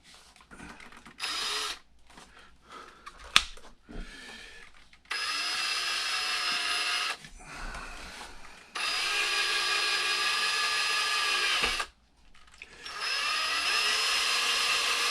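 A power drill bores a hole in a plastic A-arm of an X-Maxx RC truck, running in several loud, steady whirring bursts of a few seconds each, separated by short gaps and handling noises.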